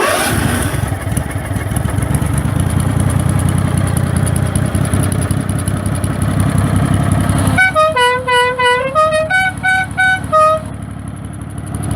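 Loud engine rumble from a Craftsman racer runs steadily, then a series of sharp, blaring Dixie air horn blasts sound in quick succession near the end, close and piercing.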